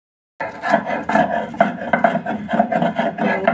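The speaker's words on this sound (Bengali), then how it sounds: "তাহলে চলুন এখন শিলে বেটে নিই" Garlic, green chili and banana peel are crushed on a flat grinding stone in a kitchen, with rhythmic, gritty rasping strokes repeating about every half second, close and fairly loud.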